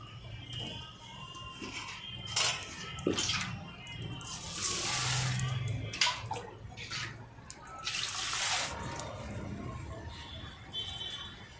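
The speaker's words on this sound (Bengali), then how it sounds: "এদিকে আমি চালটা ভালো করে ধুয়ে নেব।" Rice being rinsed by hand in a pot of water, with sloshing, swirling and dripping in repeated bursts, close and moderately loud, while a pot of water heats nearby.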